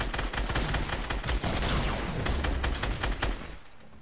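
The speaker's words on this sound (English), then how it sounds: "I don't know who the fuck was shooting." Rapid gunfire in a Fortnite match with grenades being thrown, dense overlapping bursts of shots cracking loud and close for most of the stretch before tapering off at the end.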